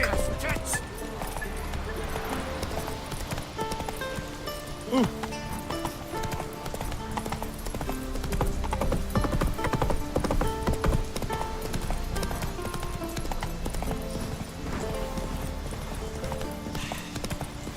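Roach the horse walking in The Witcher 3, hooves clip-clopping in a steady rhythm amid game music and ambience, with someone talking over it.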